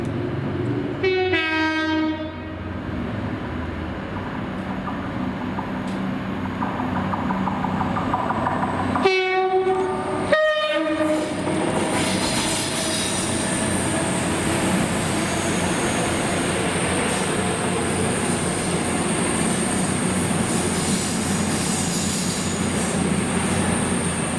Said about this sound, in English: This is Kilmarnock with the fourth last ever southbound trip, being 2S94, the 1022 Glasgow Central to Carlisle, here at around 10:58 with 221 112 and 103.